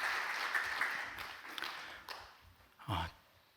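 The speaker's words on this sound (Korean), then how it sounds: "하나님께 박수로 영광 올려드리겠습니다" Church congregation applause at a Wednesday worship service, a soft broad patter of clapping that fades over a few seconds, followed by a brief low thump near the end.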